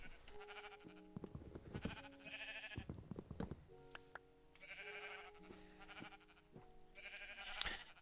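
Repeated sheep bleats from Minecraft, several wavering calls in a row, close and clear, with small clicking game sounds in between.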